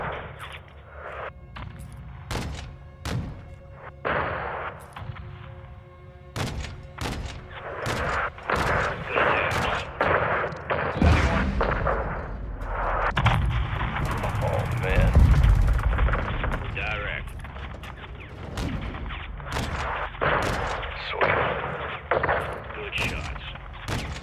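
Air support opens fire on a Mexican Army convoy in Call of Duty: Modern Warfare II: loud, dense bursts of heavy cannon fire and booming impacts, sustained and near, with voices at times underneath.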